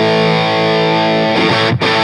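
An electric guitar played through a Providence Stampede DT distortion pedal with the gain turned all the way down still rings out gritty and distorted: one loud, sustained chord that holds for about two seconds, with a brief dip near the end.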